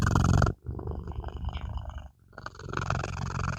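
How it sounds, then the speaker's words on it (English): A cat purrs close to the microphone in a steady low rumble with a brief pause near the middle, heard alone without talk. "Just purring. Just gonna purr."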